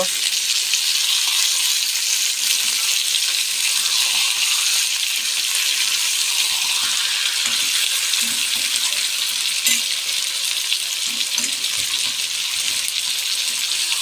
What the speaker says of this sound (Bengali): হালকা করে মাংসটাকে নেড়ে নেবে